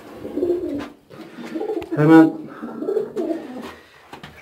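Domestic pigeons, including a smoky hen, coo in a loft in soft repeated rolling calls, close by, while someone talks over them.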